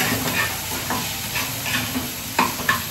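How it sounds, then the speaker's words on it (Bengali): Okra frying in a pan, a soft continuous sizzle broken by several scraping stirs of a spatula, close and moderately quiet. "ঢেঁড়স ভাজা"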